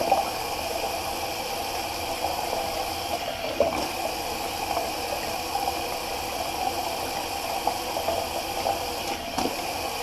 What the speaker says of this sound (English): Sorry about the water. It's because I drained my sink a little too early.